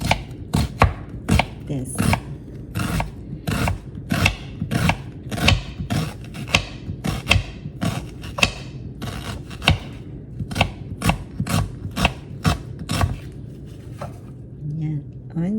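A knife chops an onion on a cutting board in a home kitchen, a rapid run of sharp, close taps in an uneven rhythm, with a few brief spoken words between the strokes.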